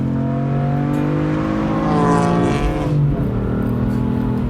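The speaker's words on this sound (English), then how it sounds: "this is an absolutely savagely fast car" A BMW M3 F80 with a JB4 tune accelerates hard, its engine note climbing loud and close through a gear, then dropping briefly at a shift before pulling again.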